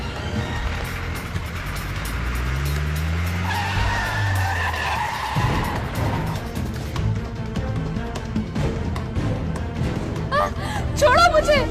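A car speeds along with tires skidding and squealing in a tense drama chase, the engine roar loud and continuous while people shout over it.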